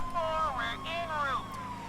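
Police car sirens in GTA V wail in rising and falling sweeps during a chase in the game, with someone talking over them.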